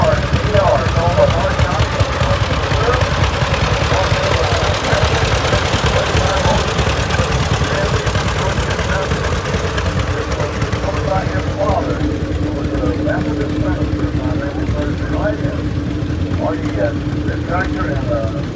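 An Oliver tractor idles at a tractor parade at the National Oliver Show in Boonville, Missouri, a steady low mechanical chug running throughout while someone talks over it on a loudspeaker.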